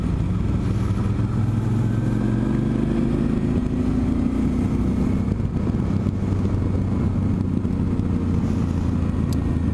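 Motorcycle engine droning steadily throughout a ride through French countryside on the way to a motorcycle market, the loud, continuous road noise and rumble holding without pause.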